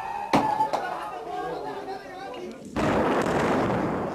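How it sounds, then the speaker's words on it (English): Airstrike explosions hit a town in north central Syria: a sharp blast, then rumbling and a second heavy roaring burst that lingers, with excited voices chattering throughout. "Footage from north central Syria shows an airstrike on a town."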